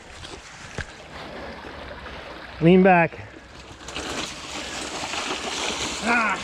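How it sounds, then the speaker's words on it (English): A mountain bike rides through a river crossing, its wheels churning and splashing water as it passes, while a voice briefly calls out over the steady rush. "You got a river crossing."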